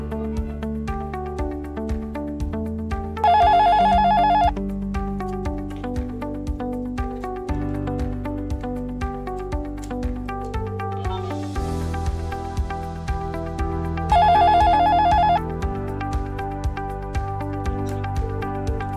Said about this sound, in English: dialing from one phone and the other is ringing